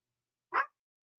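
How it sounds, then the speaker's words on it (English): A single short dog bark rings out once, loud and close, in an otherwise silent moment. "He barks for you."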